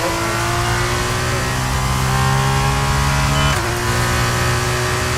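A Formula 2 race car engine in the F1 23 video game, driven at Baku, sustains a loud, continuous high-revving drone with steady tonal bands and a brief dip and shift in pitch near the end, with no talk over it.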